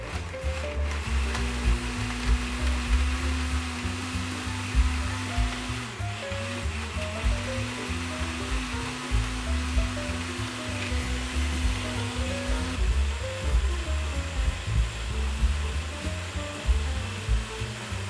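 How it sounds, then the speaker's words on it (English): A blender whirs through a passion fruit and lychee sorbet mixture with honey, a loud, constant motor drone with a steady whine that holds for several seconds, dips briefly, then resumes, with no talking. "We'll blend for about 3 minutes or until it's smooth with no large chunks existing."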